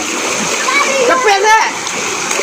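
Water splashes loudly and close as people bathe, with voices and a child's speech mixed in over the brief burst of splatter.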